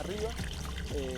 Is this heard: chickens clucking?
no